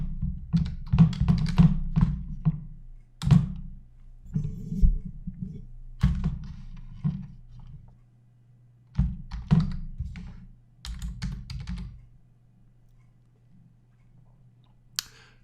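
Close computer keyboard typing comes in irregular clusters of soft key clicks and thunks, separated by short pauses, with a low steady hum beneath.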